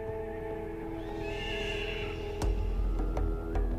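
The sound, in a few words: horse neighing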